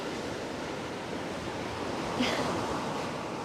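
Ocean surf washes onto a stretch of beach, a faint, continuous rushing of waves with a slight swell near the end, heard alone without voices.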